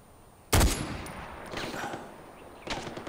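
A gun fires in Far Cry 4, one loud close shot followed by a fainter second report a couple of seconds later, with no talking.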